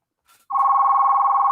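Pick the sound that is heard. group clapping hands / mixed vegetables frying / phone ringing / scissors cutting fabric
phone ringing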